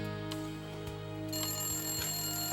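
A telephone rings in a home with repeated electronic ring bursts, steady and fairly close, with no talking.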